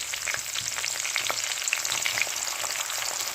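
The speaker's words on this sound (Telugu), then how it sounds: "ఇప్పుడు సన్నగా తరిగి పెట్టుకున్న ఉల్లిపాయలు వేసుకోవాలి" Finely chopped onions are tipped into a pan of frying green chillies. A dense, continuous sizzle with tiny crackling pops holds steady and close for a few seconds, with no voices.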